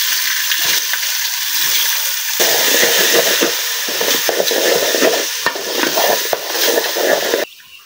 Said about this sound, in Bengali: খিচুড়ির জন্য দেখেন পেঁয়াজ আর কাঁচামরিচ সব গরম মশলা বাইজা নিচ্ছি সুন্দর করে।